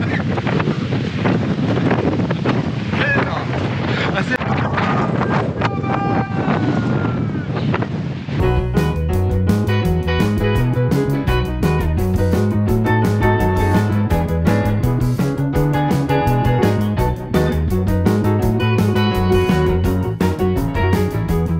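Wind gusting across the open deck of a ferry sailing to Trelleborg in Sweden, a broad roar with water rushing below, loud and steady for the first part before music takes over.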